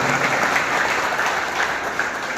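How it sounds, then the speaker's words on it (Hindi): A crowd at a farmers' political rally bursts into loud, even applause that stays dense and unbroken for a couple of seconds, with no talking over it. "एक बार जोरदार ताली"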